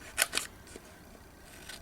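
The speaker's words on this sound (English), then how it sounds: "I'm going to actually use scissors to cut out a couple of these numbers I want to use" Scissors snip paper to cut out numbers for painted clothes pins: two sharp, close snips in quick succession, then a fainter third cut, in an otherwise quiet room.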